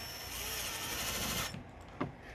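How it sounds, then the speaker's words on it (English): Power screwdriver driving a screw into a plastic RV level control box, a close, fairly quiet whirring buzz lasting about a second and a half, followed by a small click. "Now we're just going to put the screws in. In each hole."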